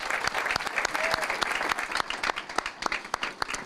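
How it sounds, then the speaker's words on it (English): A room full of people at a city council meeting claps steadily, sustained applause with sharp individual claps standing out, no voices over it. "one more big round of applause for Doug Bloom, please."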